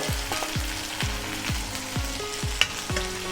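Chopped onion, green chilies and garlic sautéing in a hot pan, a continuous close sizzle broken by a regular series of sharp ladle knocks and scrapes against the pan, about two per second.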